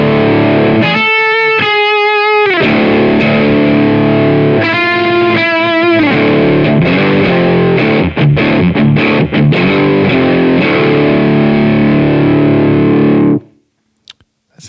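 Telecaster electric guitar driven through a Lawrence Petross Design Eighty 7 overdrive pedal, with crunchy strummed chords and picked notes ringing continuously and loudly, stopping sharply near the end.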